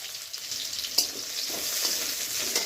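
Crushed garlic and whole cumin hitting hot oil, with a bright, dense sizzle running continuously and close, plus a sharp pop near the start; no talking.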